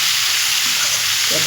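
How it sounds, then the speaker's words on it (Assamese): Okra frying in a hot pan with masala, salt and colour powder, a loud steady close sizzle and hiss filling the whole moment. "ধুনীয়াকৈ ভাজি ল'ম"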